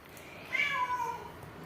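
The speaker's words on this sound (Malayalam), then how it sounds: "അവിടെ പൂച്ചകളൊക്കെ പോണേ ഗൈസ്" A cat gives a single drawn-out meow, fairly faint and mid-distance over a low background hum, with no talking.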